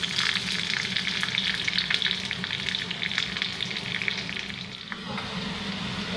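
Long-sliced ginger and slit green chillies fry in hot ghee, giving a steady, close, fairly loud sizzle with crackling and faint stirring that eases slightly near the end.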